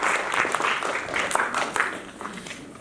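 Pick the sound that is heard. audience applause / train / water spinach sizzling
audience applause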